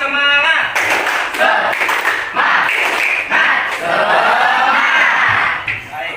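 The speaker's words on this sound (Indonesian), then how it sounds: "Tepuk semangat." A classroom of students performs a rhythmic spirit clap, with bursts of clapping and chanted group voices coming in quick, patterned rounds that fill the room loudly.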